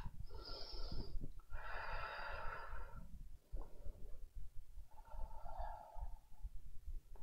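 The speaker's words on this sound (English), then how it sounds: "Take a breath." Deep, slow pranayama breaths during a yoga class: several long, close, airy inhales and exhales with short pauses between them, quiet and breathy with no talking.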